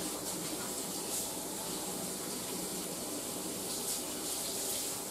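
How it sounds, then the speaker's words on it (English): Running tap water pours steadily over hands being washed, a continuous close splashing rush at even loudness, with no talking. "So let me wash my hands."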